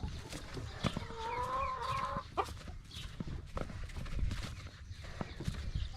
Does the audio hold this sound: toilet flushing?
no